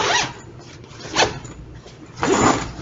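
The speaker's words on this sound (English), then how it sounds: "It has two-way zippers." Three quick pulls of a two-way backpack zipper, each a short bright rasp separated by pauses, the last one longer and louder, close up with no talking.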